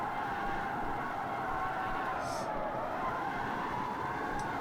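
A Tesla converted into a rear-wheel-drive drift car slides with its tires skidding, making a continuous, loud, rushing roar of tire scrub and motion noise that holds steady throughout.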